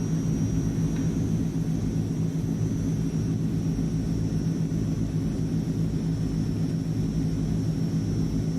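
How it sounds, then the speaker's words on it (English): Transall turboprop engines at climb power in a flight simulator, a steady, loud low drone with a faint high whine running throughout, alone without talk. "Then set climb thrust, 1350. Or climb power, I should say, since we're flying a prop aircraft."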